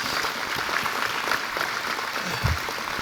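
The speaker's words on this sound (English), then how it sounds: "one more round of applause for our astronauts." An audience at an astronaut reunion event claps for the astronauts, a moderate, fairly distant wash of applause with a low thump partway through.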